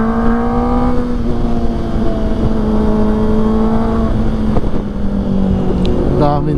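A motorcycle with a quiet muffler rides at night, its engine a steady, smooth hum at constant speed, loud and close, with brief pitch changes near the end.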